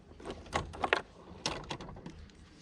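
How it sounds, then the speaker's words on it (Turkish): A motorcycle rear top case being opened, a few quick plastic clicks and latch snaps with a soft rustle in between, close and fairly quiet, no voices. "arka bagajı da açayım."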